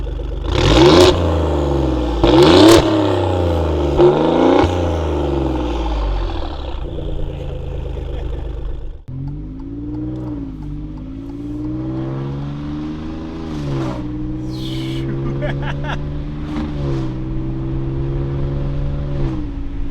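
Tuned Alfa Romeo Giulia Quadrifoglio with downpipe and aftermarket exhaust, loud and close, revving hard through repeated gear changes with sharp pops on each shift, then settling into a steady engine drone.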